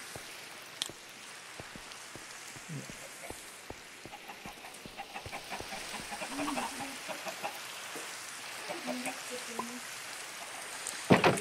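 Minecraft chickens cluck softly in short, scattered bursts, with a few near clucks and others farther off, over a faint steady background.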